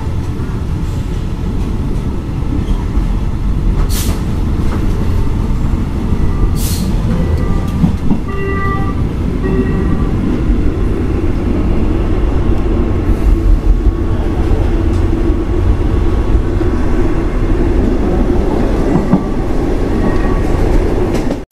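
A train passing a level crossing in Thailand, heard from aboard an old wooden train: steady loud rumbling with clickety-clack of wheels on the rails and occasional brief squeals and clanks throughout.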